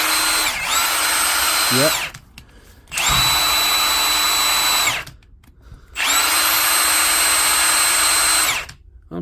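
An old Makita BHP452 brushed cordless drill, repaired and running on its battery, whines loudly in three long bursts separated by short pauses, with a brief spoken word in between.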